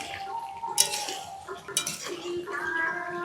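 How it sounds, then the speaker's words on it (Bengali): Marinated chicken is stirred slowly in hot oil in a pan, with a few soft metallic clinks and scrapes of the utensil over a faint sizzle and a quiet voice. "এইভাবে চিকেনটা আস্তে আস্তে নাড়াচাড়া করতে থাকবো।"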